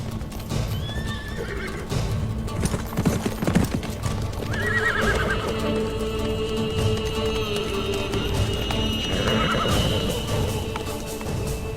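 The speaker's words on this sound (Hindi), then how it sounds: "ये घोड़ा तो शहजादे अलाउद्दीन का है।" Horses clip-clop steadily over ground outdoors, with loud whinnies rising over the hoofbeats in a tense period-drama setting, no talk.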